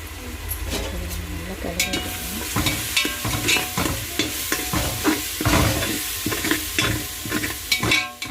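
Ginger garlic paste sizzles in hot oil in a pan and is stirred steadily, with loud, close scraping strokes over a constant frying hiss and a brief voice.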